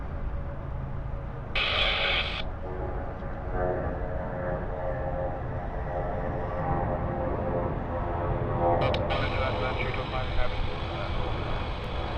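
A Qantas airliner takes off from runway 34 left at Sydney Airport, its engines producing a sustained distant roar under radio chatter between the tower and pilots.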